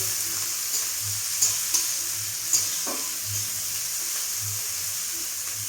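Steady sizzle of sliced onion and chopped chili frying in hot oil, a continuous crackling hiss with a few sharp pops and occasional stirring scrapes, close by and without any talking.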